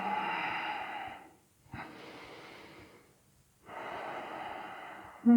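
Slow, steady breaths during a held yoga stretch, three long exhalations and inhalations with short quiet pauses between them, close and soft with no talking.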